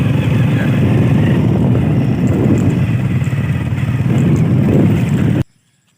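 A motorcycle riding along a road, its engine a loud, continuous rumbling roar heard up close, cutting off abruptly near the end.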